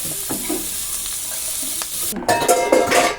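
Onions, potatoes and green chilies sauté in a pan for an onion theeyal curry, giving a continuous close sizzle with occasional stirring scrapes that grow louder and busier in the second half.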